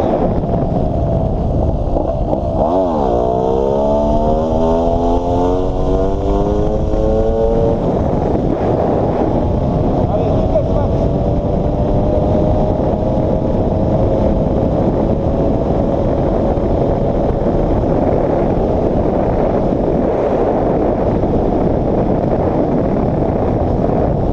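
A GasGas 250 two-stroke trial motorcycle engine revs in rising, wavering bursts early on, then settles into a steady drone, nearly buried under heavy, constant wind roar on the microphone throughout, with no voices.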